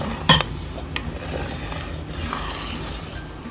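A spoon scrapes and rubs along the bottom of a pot of coconut milk heating for homemade coconut oil, with one sharp clink early and a soft, steady scraping after it, close by and with no talking.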